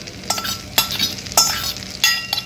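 Omelette batter with onions frying in a pan on a mini stove, a steady soft sizzle broken by several sharp clinks and scrapes of a utensil against the pan.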